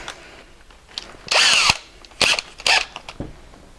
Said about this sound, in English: You're going to want to drill a hole for your wire now.